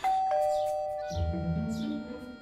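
A doorbell chimes once near the start, a clear sustained ding that fades slowly, then a second tone is cut short as indistinct room noise and movement take over in a domestic comedy scene.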